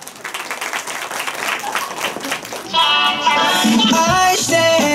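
An audience claps for a hip-hop dance group of three sisters at a spring jam event, steady applause that gives way after about three seconds to music starting up.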